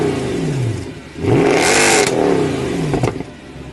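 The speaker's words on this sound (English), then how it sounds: "Finally, the car featured a fantastic exhaust note." A 2008 Mercedes-Benz W204 C63 AMG's exhaust snarls through a sharp rev, climbing and falling in pitch, loud and close, followed by a second quick blip and crackle.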